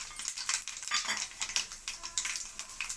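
Garlic, cumin and dried red chilies sizzling in hot oil for gongura tomato chutney, a soft crackling hiss broken by stirring scrapes of a spoon in the pan, close and fairly quiet.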